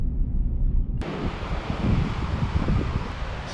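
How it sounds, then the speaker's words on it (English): Rough, buffeting wind noise rumbles against the microphone in early morning at Fingal, starting abruptly after a second of quieter hiss and continuing steadily. "She's a little windy."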